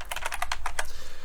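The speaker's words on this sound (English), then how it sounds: "I'm glad that you guys can't see my password while I'm typing this in." Keystrokes clatter on a computer keyboard as a password is typed, a quick run of about eight close, distinct taps over a steady low hum, with no voices.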